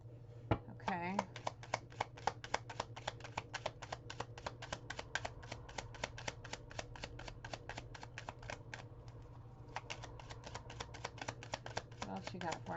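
Kipper oracle cards being shuffled, a long run of quick crisp riffling clicks in a steady rhythm, close and fairly quiet, with a low hum underneath and a brief pause near the end.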